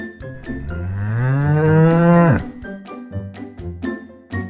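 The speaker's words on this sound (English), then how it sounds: "C for cow." A cow gives one long, loud, rising moo that fades out, followed by a few short rustling and knocking sounds.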